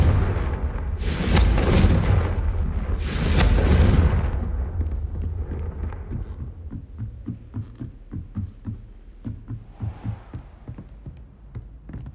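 A Confringo fire spell bursts in Hogwarts Legacy, two heavy booming blasts close together followed by a fading rumble and a run of quieter rhythmic thuds.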